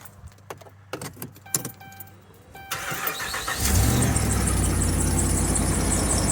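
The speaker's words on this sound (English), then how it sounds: "We got a squeal, you hear that?" A 2009 Dodge Ram with the 5.7 HEMI engine gives off a few key jingles, then the engine cranks and starts, and a loud, steady serpentine belt squeal rises over the idle.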